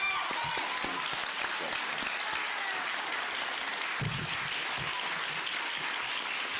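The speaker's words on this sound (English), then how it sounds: "give them a round of applause" An audience at a forum for Harris County district attorney candidates gives sustained applause, a dense, even roar of many hands clapping that holds steady for several seconds with no talk over it.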